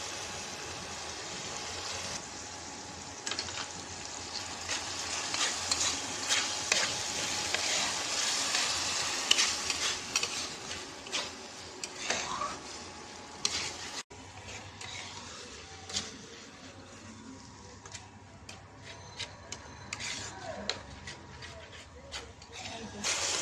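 A spice masala with mustard paste and green chilli fries in oil in a pan for an aila fish curry, a steady close sizzle with scraping stir strokes that fade as it settles, with a voice speaking at times.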